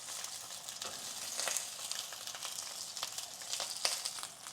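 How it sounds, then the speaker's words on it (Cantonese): Large prawns pan-fry on one side for a Hong Kong restaurant-style cheese prawn yi mein, giving a steady close sizzle with scattered crackling pops and no voices. "咁我哋而家咧煎咗一面啦，大約1分鐘啦"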